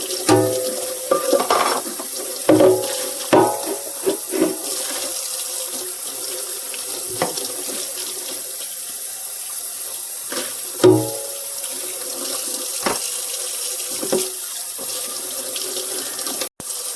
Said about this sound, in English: And we'll wash out the coffee pot.